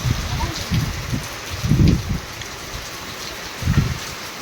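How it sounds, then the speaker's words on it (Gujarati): Rain falls steadily with wind, a constant broadband hiss broken by several low gusty rumbles that swell and fade against the microphone. "પવન સાથે હે વરસાદ"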